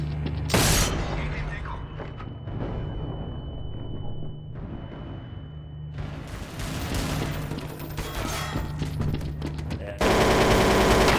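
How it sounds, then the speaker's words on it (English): AK-47 rifle gunfire in the video game Counter-Strike comes in loud bursts of rapid shots with metallic mechanism clicks between them, set over steady game background noise. "The very much coveted terrorist AK-47."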